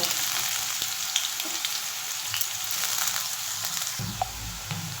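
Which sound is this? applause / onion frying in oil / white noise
onion frying in oil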